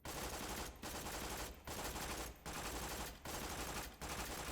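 A Dahl SMG in Borderlands 2 fires in rapid bursts, five dense chattering volleys separated by short, regular pauses, loud and close with no talk.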